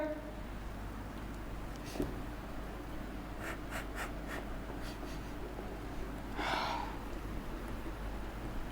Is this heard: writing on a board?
yes